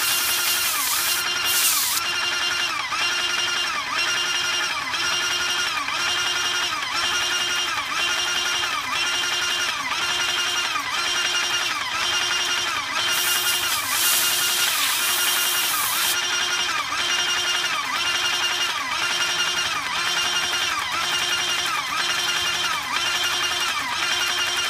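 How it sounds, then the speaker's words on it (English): A paint sprayer pump runs steadily while being flushed clean, giving a continuous loud mechanical whine with a regular pulsing rhythm throughout, plus two brief bursts of hissing spray. "Just rinse off the gun and any overspray that's on there while we're waiting for the pump to clear."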